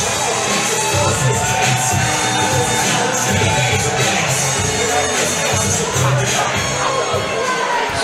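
A boxing crowd cheers and shouts as boxer Alex French of Suffolk French Boxing enters the ring from the red corner, a continuous loud roar of many voices with whoops and overlapping shouts throughout.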